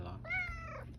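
A cat gives one short, close meow, rising then falling, over a faint low background hum.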